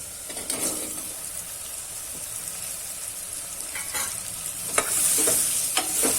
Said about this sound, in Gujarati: આ રીતના બધું મિક્સ કરી દેશું.